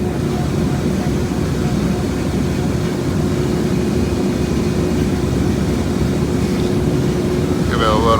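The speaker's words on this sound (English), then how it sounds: "and then I'll turn on the pump" Pump running on a commercial Puroflux HVAC filtration system, a steady loud mechanical hum and whir that holds evenly throughout, with a faint squeal near the end and no talk.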